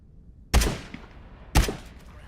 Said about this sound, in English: Why is he shooting the sky?